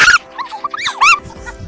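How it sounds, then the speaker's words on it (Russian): Three dogs barking and yelping outdoors near a cave, several high excited barks and whimpering yips in quick bursts, close and loud. "Кто не понял, там собаки."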